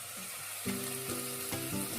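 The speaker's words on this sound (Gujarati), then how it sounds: "ડુંગળીને મસ્ત એવી આપણે તળી લીધી છે તેલમાં" Onion frying in oil in a home kitchen, a steady close hiss of sizzling with a few brief stirring scrapes, no talk.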